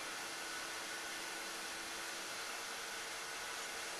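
A wood lathe spins a cherry hollow vase at about 1800 RPM, giving a steady, even whirring hiss with a faint tonal hum, constant and unbroken throughout with no voices.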